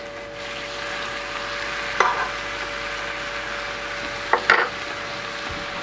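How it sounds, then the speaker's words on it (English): Bacon frying in melted butter in a pan, a soft continuous sizzle with a low steady hum beneath and a couple of short clattering pops, no talking. "So what we'll do is we'll put some bacon on."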